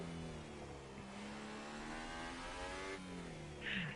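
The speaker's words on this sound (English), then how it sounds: "Love the sound of a Honda engine." A Honda Formula 1 engine in the F1 2018 racing game revs high and rises and falls in pitch as the car accelerates through gears, a continuous buzzing whine at moderate distance.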